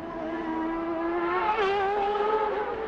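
An IndyCar race car at the Belle Isle raceway drives past at a steady, high-pitched engine whine, loud and close, with a slight pitch bend midway as it passes.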